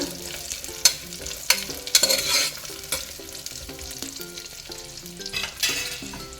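Jackfruit seeds fry and sizzle in hot oil in a pan, with a steady crackle underneath and repeated sharp scrapes and clanks as a spoon stirs them.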